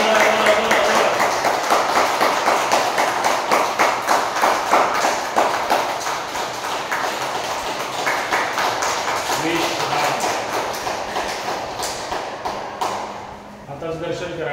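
An audience at a yoga gathering claps hard in a sustained, roughly rhythmic wash of many hands that thins out and trails away near the end, with a voice briefly audible over it.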